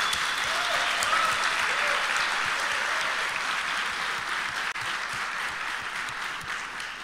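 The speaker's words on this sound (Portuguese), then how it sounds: "Eu quero dar uma salva de palmas para vocês aí pela presença de vocês." A lecture audience applauds, a steady, moderately loud stretch of clapping that continues for several seconds and eases slightly toward the end.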